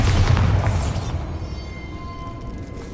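A booming spell explosion in a video game, loud at first, then a long rumbling decay that tails off over a couple of seconds.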